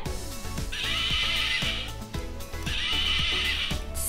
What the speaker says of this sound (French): C'est un bruit de cheval.